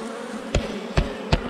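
Honeybees around hive frames during beekeeping: a steady close buzzing drone with three sharp knocks spaced through it.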